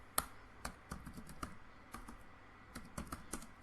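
Close, quiet keystrokes on a computer keyboard as an SQL command is typed, landing in irregular clusters with short pauses between bursts.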